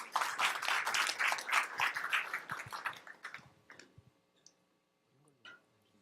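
An audience at a startup pitch forum claps to welcome a presenter, starting as a brisk burst of many hands that thins out and fades to a few scattered claps and quiet.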